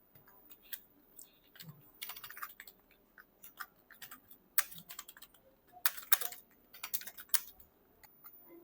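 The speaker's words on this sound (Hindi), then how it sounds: "तो इसको टाइप करके हम चेक करते हैं।" Computer keyboard typing a Hindi paragraph for a junior assistant typing test, a faint, steady run of quick close keystrokes with irregular clusters and brief gaps and no talking.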